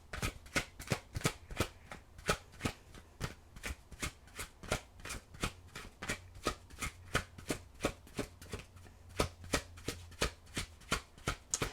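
Tarot cards being shuffled by hand in a long run of rapid, evenly spaced riffling bursts, close and quiet, with no talking.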